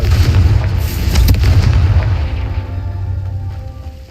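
A Confringo fire spell bursts in Hogwarts Legacy with loud, close, rumbling booms and crackling blasts that fade into a lingering low rumble.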